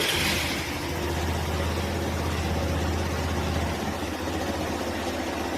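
A Hero Xtreme motorcycle engine with 44,000 km on it runs at a steady idle, a constant low throbbing hum that holds evenly throughout with no talking.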